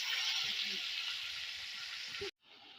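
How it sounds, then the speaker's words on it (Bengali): Onion paste frying in oil over a wood-fired stove gives a steady loud hiss that cuts off abruptly near the end, then returns more faintly. "এবার আমি পেঁয়াজ বাটাটা ভেজে নিচ্ছি।"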